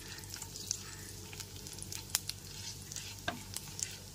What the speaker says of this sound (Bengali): ফোড়নটা এখানে হালকা করে ভেজে নেব